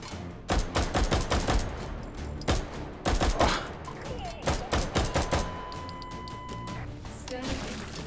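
Rapid bursts of gunfire from the VR shooter Hot Dogs, Horseshoes & Hand Grenades, loud and close, with clustered shots firing in irregular volleys and brief pauses between them.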